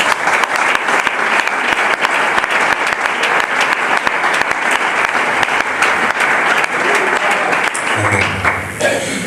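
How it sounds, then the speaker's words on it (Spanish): A church congregation claps loudly and continuously, a dense, close burst of applause that runs nearly the whole time before fading out, with voices emerging at the end. "¿Podemos dar un aplauso para Jesús?"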